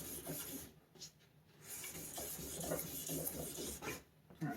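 A plastic headlight lens is wet sanded with 1500 grit sandpaper, a continuous soft rasping scrub in back-and-forth strokes with brief pauses, close and fairly quiet with no voices.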